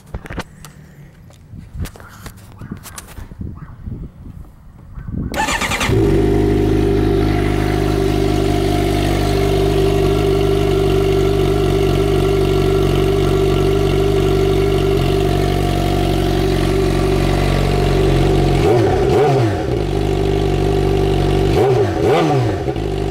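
A Suzuki GSX-R 600 motorcycle with an Akrapovic exhaust running without its baffle idles loudly and steadily, a deep throbbing drone that starts abruptly after a few seconds of quiet handling noise, with brief dips near the end.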